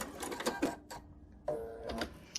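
A Bernina 570 Quilters Edition sewing machine runs in short bursts while binding a potholder, a quiet mechanical whir with a gap of near silence before a second stretch of stitching.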